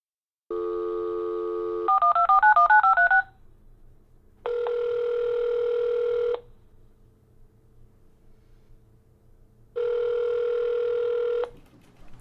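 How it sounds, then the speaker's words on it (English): A telephone is dialed for a recorded call: a steady tone sounds, a quick run of dialing beeps follows, and then two long ringback tones sound with silence between them. Everything is loud and close with no talking. "GE Electric News attempted to contact the office by phone."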